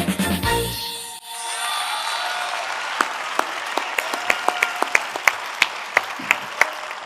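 Audience applauding a choir at a Roman music show: dense continuous clapping swells after a brief dip, with sharp individual claps standing out near the end.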